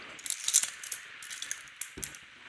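Keys on a keychain jangle and clink in a quick, irregular series of bright metallic rattles, close by and fairly crisp, with a soft knock near the end.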